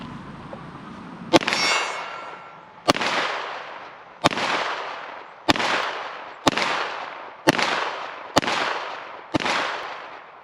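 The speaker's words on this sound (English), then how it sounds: "first time shooting it with the original recoil spring reinstalled, 115 grain" A Canik TTI Combat pistol fires 115 grain FMJ rounds in a steady series of eight sharp, loud shots about a second apart, each ringing out with a long metallic decay, with no talking.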